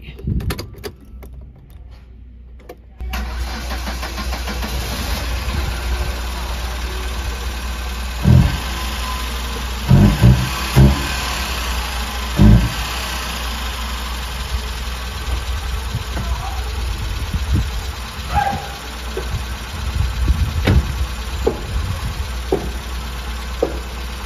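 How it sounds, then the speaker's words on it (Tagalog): A car engine turns over after a three-hour battery charge from a cheap charger and settles into a steady idle, with a few door or handling thumps and clunks over the running hum. "nakita nyo gumagana na yung sasakyan natin"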